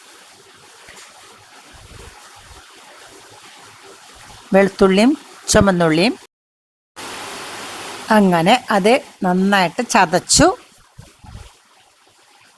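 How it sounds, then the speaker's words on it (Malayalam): Rain falls steadily outside a home kitchen, a soft, even wash of noise under someone speaking close by, with pauses and a brief dropout. "മഴ പെയ്യണ ശബ്ദം പുറത്ത്."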